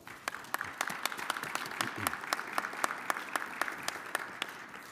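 Sustained applause from a conference audience at the Colorado River Water Users Association annual meeting, steady dense clapping with sharper individual claps standing out, continuous throughout.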